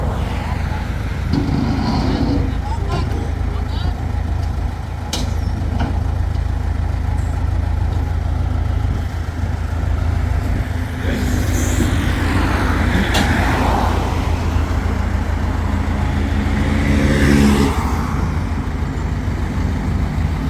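A wheel loader's diesel engine runs loud and steady with a deep low rumble, rising and falling as the machine drives, with clanks and occasional voices over it.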